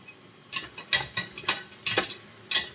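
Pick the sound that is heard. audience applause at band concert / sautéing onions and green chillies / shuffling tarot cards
sautéing onions and green chillies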